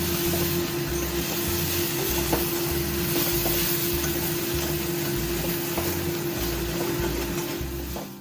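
Potato and soybean frying in a pan with salt, turmeric, cumin and coriander powder: a steady sizzle and hiss beneath a pulsing rhythmic background, with no one talking.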